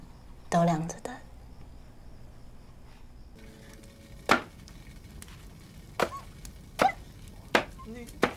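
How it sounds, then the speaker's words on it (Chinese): A knife chops vegetables on a board in a home kitchen, with sharp distinct strikes spaced about a second apart, after a burst of speech at the start. "我在学切菜啊"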